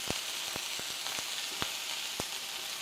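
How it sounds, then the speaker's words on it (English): Minced garlic fries in a very hot pan, a steady broadband sizzle with several sharp crackles and pops spaced irregularly throughout, close and moderately loud, with no talking. "1 teaspoon of minced garlic. Mix it, don't burn it."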